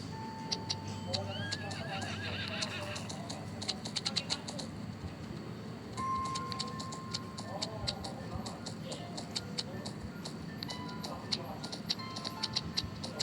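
Horse neighs and whinnies from a video game, with clip-clopping hooves, bird chirps and other game sounds repeating over a steady ambient bed.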